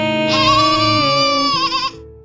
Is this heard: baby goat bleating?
yes